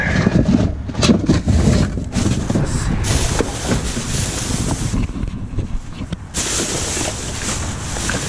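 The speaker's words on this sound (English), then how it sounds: "wind is starting to pick up" Strong wind picking up outdoors near water, buffeting the microphone in loud, continuous gusts with surging rushes and brief lulls, sounding near and dominant throughout.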